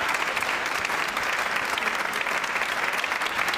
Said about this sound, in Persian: تشویق بکنید آقای